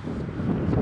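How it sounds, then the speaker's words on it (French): Light wind blowing outdoors across a field, a steady soft rumble of air buffeting the microphone throughout, with no other sounds standing out. "il y a un petit peu de vent"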